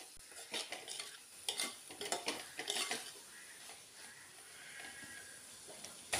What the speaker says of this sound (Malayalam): 2-3 മിനിറ്റ് ഒന്ന് ഇളക്കി കൊടുക്കണം.